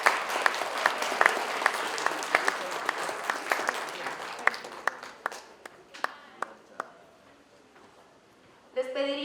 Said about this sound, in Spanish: Les pediría por favor nuevamente un nuevo voto de aplauso para los presentes acá